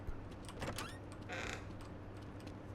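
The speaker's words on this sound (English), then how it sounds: "That's an ominous creak." A drawn-out creak sounds inside a horror video game, with a short squeaking scrape and then a brief higher groan over a low, steady ambient hum.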